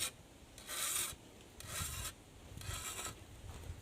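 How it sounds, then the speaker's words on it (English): A metal file rasps across the edge of a cane knife blade at a downward angle in three slow, even strokes, each a close, gritty scrape separated by short pauses. "Notice I'm filing at a downward angle to obviously give it the edge and angle."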